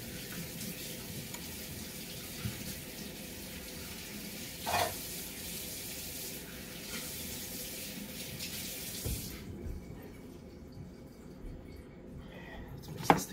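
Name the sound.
water running while washing hands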